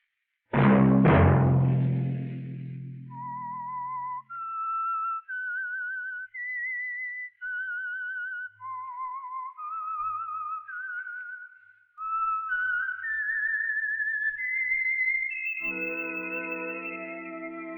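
A clear human whistle carries a slow melody in separate held notes, first over a low opening tone and later over a sustained organ-like chord, as the signature of the radio program The Whistler.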